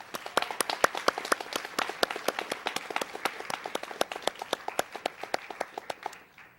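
Applause at a spring awards ceremony for early college students, a steady run of sharp, close hand claps from a modest group, fairly even in pace before stopping abruptly.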